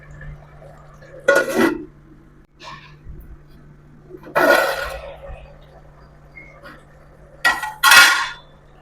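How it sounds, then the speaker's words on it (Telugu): A metal lid goes onto a cooking pot of chana dal, brinjal and drumstick curry, sounding as several sharp close clanks and clinks with quieter rattles between them. "సరిపోయింది, మూత పెట్టేద్దాం."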